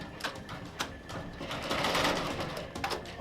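An embroidery machine starts stitching a beanie with rapid mechanical clatter and rhythmic needle taps that build into a dense, steady whirring, heard up close.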